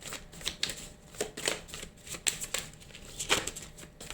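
Tarot cards are shuffled and cut with quick papery riffles and soft slaps in an irregular rhythm, close and fairly quiet, with no talking.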